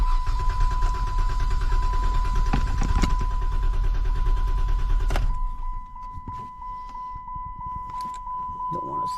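A 2013 Dodge Challenger's engine cranks steadily for about five seconds without catching, then stops, leaving a chime tone and faint clicks; a voice speaks over part of it.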